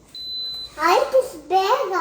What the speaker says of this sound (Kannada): ಬೀಪ್ ಬೀಪ್ ಸೌಂಡ್ ಬಂದ್ಬಿಡ್ತು ಅಲ್ಲದ